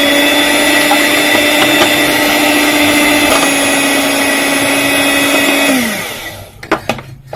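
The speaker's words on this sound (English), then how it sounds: "Here again you can use a whisk." An electric whisk beats eggs with a loud, steady motor whine, then spins down and stops, followed by a few knocks and taps against the bowl.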